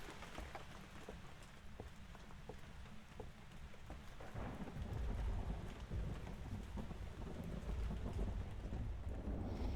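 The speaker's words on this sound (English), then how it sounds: "when we've got so much noise going on with the rain." Heavy rain in the Phasmophobia game, with thunder rumbling. A steady downpour runs throughout, with scattered sharp crackles early on, and a deeper, louder roar of rain and thunder builds from about four seconds onward, with no voices.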